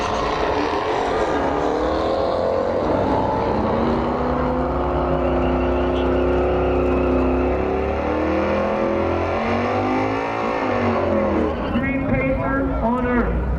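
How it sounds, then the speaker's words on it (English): A Pontiac GTO does a burnout at an outdoor rock-and-roll car show, its engine roaring loud and sustained with shifting rev pitch, tire noise and crowd chatter mixed in throughout. "This is a good burnout by the GTO"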